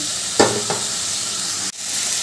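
Fried eggplant and tangra fish go into a pan of softened potatoes, a steady close sizzle and hiss broken by a couple of soft thumps and a brief stirring scrape, with no talking.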